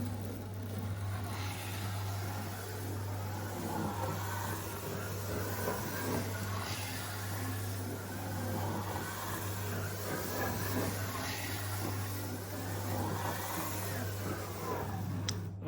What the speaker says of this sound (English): I thought we'll try the motor bogie on track and see how it performs.